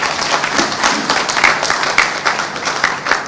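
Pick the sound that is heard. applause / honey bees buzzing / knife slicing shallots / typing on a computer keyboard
applause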